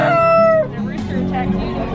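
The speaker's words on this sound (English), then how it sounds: "Huge chicken." A large chicken crows loudly and close by at a farm swap meet, one drawn-out call that breaks off into a rough tail amid outdoor crowd noise.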